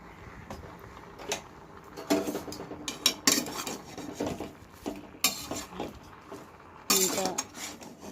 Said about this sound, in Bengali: নুনটা নেড়ে দিয়ে ঢাকা দিয়ে দেব।